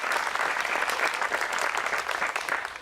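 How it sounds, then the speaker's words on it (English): Steady, enthusiastic applause from an audience at a civic band concert, a dense wash of clapping hands sustained throughout without pause. "Give the kids another round of applause, shall we?"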